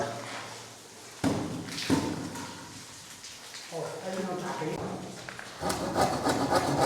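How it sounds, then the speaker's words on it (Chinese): Rough wooden rasping strokes of a hand saw cutting through wood during house demolition, repeated unevenly, with people talking over it. "先给它锯断，然后用锤子把它敲打出来。"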